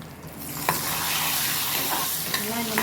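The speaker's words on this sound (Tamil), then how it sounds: "முந்திரி போட்டுக்கலாம்" Chopped cashews fry in hot ghee alongside cardamom for pumpkin halwa, a continuous bright sizzle with a couple of light stirring knocks, near and steady with no voices.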